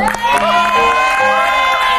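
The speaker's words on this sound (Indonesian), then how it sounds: "Tepuk tangan dulu dong" Loud studio audience on the Indonesian gossip talk show Rumpi No Secret cheers and whoops while clapping, a bright, tonal crowd roar sustained throughout, with voices shouting over it.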